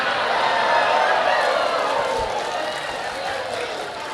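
A crowd at a humorous sermon claps in a dense, continuous wash of applause that stays steady and fairly loud, blended with crowd noise and hubbub.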